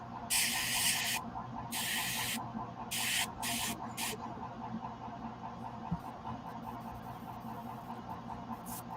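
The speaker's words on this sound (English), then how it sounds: "That's a good airbrush." An Iwata airbrush sprays paint in several loud, steady hissing bursts of about a second each, separated by short pauses, close to the mic over a low background hum.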